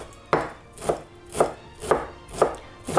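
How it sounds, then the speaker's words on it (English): Fresh dill being chopped finely with a knife on a board, six crisp evenly spaced chops close up, alone with no voices. "Now we need to chop our dill very finely"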